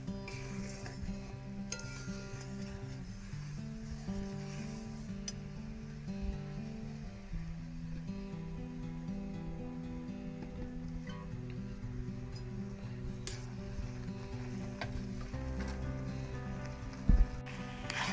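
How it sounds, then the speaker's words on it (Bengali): Chickpea-flour boondi being gently stirred into sugar syrup for motichoor laddu, soft continuous scraping and stirring over a steady bed of tonal background sound, one brief knock near the end, no voices. "এবার এইভাবে হালকা হালকা করে নেড়ে নিতে হবে"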